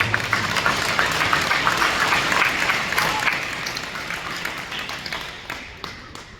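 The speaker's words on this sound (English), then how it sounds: "Let's give another round of applause for Austin." Audience applause for a graduate at a high school awards and scholarships ceremony, loud sustained clapping from a large crowd that gradually thins and fades toward the end.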